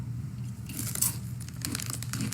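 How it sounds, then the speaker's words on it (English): Potato chips being eaten late at night, with close, crisp crunching and bites in quick irregular bursts against a low steady background hum. "I usually don't eat chips this late at night, but I just had the little munches"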